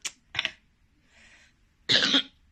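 A person with a fever coughs close up: two short dry coughs, a pause with a faint breath, then a longer, harsher cough burst.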